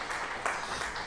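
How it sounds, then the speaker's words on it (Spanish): A brief, dense wash of audience applause at a casual online gathering, steady and fairly loud, with voices faintly mixed in. "No, hay que aplaudir."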